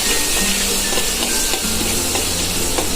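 Chopped onion hits hot oil with asafoetida in a pan for idli chutney, giving a steady, loud sizzle and frying hiss with occasional stirring scrapes, close and continuous.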